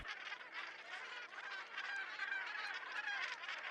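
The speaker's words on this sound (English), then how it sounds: "Mostly gannets, as you can see here, but as you'll be seeing, other seabirds too." Northern gannets at the crowded Bempton Cliffs seabird colony keep up a continuous mass of harsh, grating calls, faint and distant, overlapping without pause.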